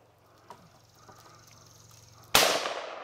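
A single loud, sharp shot from a large-caliber rifle fired from a supported position on sandbags or a bipod, cracking out near the end after a quiet stretch and trailing off into a decaying rumble.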